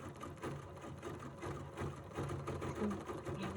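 Close, continuous whirring and fast rhythmic needle stitching from a sewing machine working a couched fiber design, with a busy mechanical hum and no speech.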